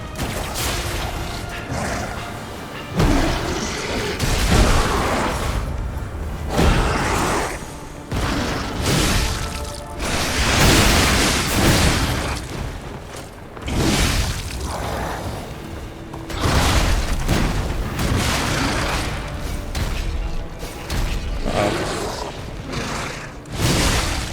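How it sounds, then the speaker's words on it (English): Bolt throwers firing in the action game Lies of P, heard as repeated heavy thumps and crashing impacts at roughly regular intervals, loud and close amid continuous combat noise. "those catapults help me out a little bit, or whatever they are. Bolt throwers."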